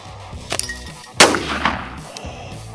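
BB gun shot hitting a Daisy Rocket Shot target loaded with a rotten potato: a sharp pop, then a louder crack and clatter about a second later, with faint clanks trailing off.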